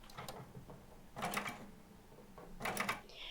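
A home sewing machine stitches a jeans buttonhole in short zigzag bursts at 0.4 mm stitch length, three brief whirring runs with quiet pauses between, fairly faint and close.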